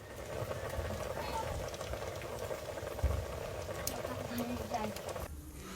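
Snails simmering in seasoned coconut milk over a backyard fire, coming up to a boil: a steady, dense bubbling and gurgling that carries on throughout, with a faint murmur of voice underneath.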